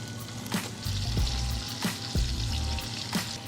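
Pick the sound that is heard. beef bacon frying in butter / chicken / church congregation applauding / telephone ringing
beef bacon frying in butter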